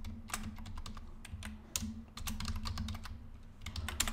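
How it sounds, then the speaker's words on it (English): A computer keyboard clicks as a password is typed, with quick irregular keystrokes in short bursts over a low steady hum, close and moderately quiet, with no talking. "Oh, I was typing my password."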